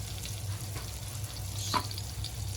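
Surmai (kingfish) pieces frying in oil in a pan: a soft, steady crackling sizzle runs throughout at low volume, with a small pop near the middle and no talking.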